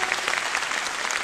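Brief burst of concert audience clapping for a pianist, dense and steady, lasting just over a second with no speech.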